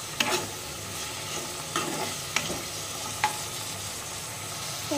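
Besan being stirred into a bhindi and tomato ambul in a pan, with a steady soft sizzle and several sharp scrapes and knocks of the spoon against the pan.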